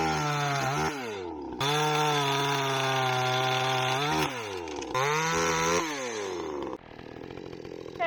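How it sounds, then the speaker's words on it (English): A chainsaw engine roars steadily up close while limbing a tree, revving up and down through several cuts with brief idling dips between. "Dad has got the chainsaw going, and he's going to be working on that."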